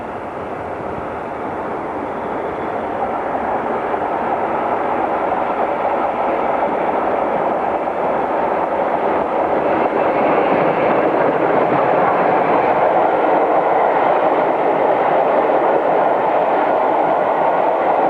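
An S15 steam train rumbles steadily past on a railway, a broad continuous roar that swells slightly and holds loud throughout, with no voices.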